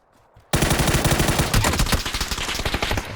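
Gunfire in the video game PUBG: after a short quiet moment, a sudden, loud burst of rapid automatic shots begins and keeps rattling in a dense, fast rhythm until the end.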